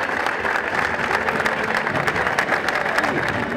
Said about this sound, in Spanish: los aplausos para Clara Martínez